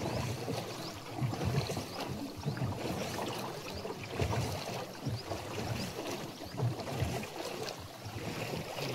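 A crowded boat crossing the Narmada river rocks as it goes, with a steady, loud wash of water and engine rumble running without a break and no voices.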